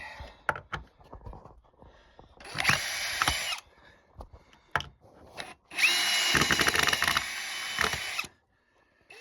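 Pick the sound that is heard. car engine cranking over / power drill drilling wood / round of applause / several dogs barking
power drill drilling wood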